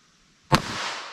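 A single sharp .22 Long Rifle gunshot fired at a test target, a loud near crack after half a second of quiet, followed by a lingering noisy tail.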